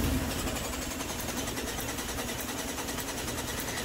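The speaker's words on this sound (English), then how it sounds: "it's cranking for quite a while" A 4.0-liter straight-six car engine cranks over on a portable jump starter, a steady, loud, continuous whirring drone that holds evenly for several seconds without catching.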